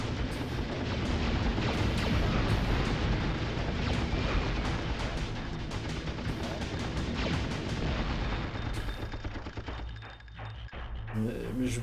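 A smart bomb detonates in Apocalypse on the PS1, a long, loud rumbling blast of explosions and debris that fills the scene before tapering off near the end.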